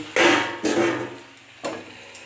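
A lid goes onto a pot of simmering spiced meat, with several clanking metal knocks and scrapes spaced unevenly over a low sizzle, loud and close, with no talking.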